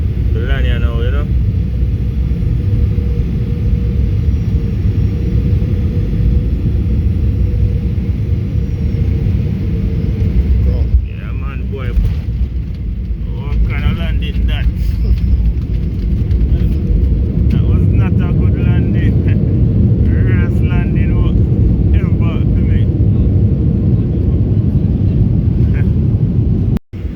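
Steady loud low cabin rumble of an airliner on its landing approach into Canada, continuous throughout with voices talking over it and a cabin announcement.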